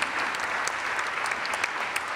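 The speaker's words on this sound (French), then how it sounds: "mais on peut l'applaudir, effectivement" An audience applauds at a youth-engagement talk, a dense, even patter of many hands clapping steadily for about two seconds at moderate volume, with no voices over it.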